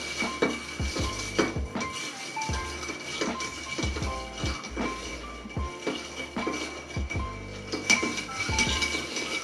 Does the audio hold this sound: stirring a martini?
yes